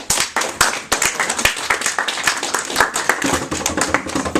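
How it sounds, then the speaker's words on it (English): A classroom audience gives a round of applause after a minimum wage debate in an economics class, a few nearby pairs of hands clapping sharply and unevenly, loud and distinct throughout. "let's give these guys a round of applause"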